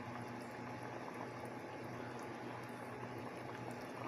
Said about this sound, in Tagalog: Ayan, kumukulo na po siya.